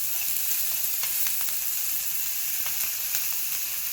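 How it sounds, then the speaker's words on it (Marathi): Onion sautéing in a pan for a leafy green vegetable dish gives a steady, close frying sizzle, with faint stirring clicks now and then and no voices. "कांदा छान परतून झालेला आहे।"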